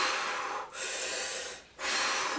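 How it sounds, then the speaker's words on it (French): Deep Wim Hof-style breathing: long, close, hissing breaths that run almost without a break, with two brief dips between them as the breath turns. "je fais d'abord quelques exercices de respiration, comme les exercices de respiration à la Wim Hof en fait"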